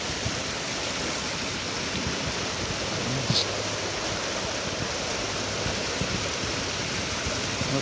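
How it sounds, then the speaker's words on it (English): Creek water runs steadily over a small shallow run along an Ohio stream, a continuous close rushing and bubbling wash that holds even throughout with no voices. "So if nothing else, turn the volume up and enjoy the water."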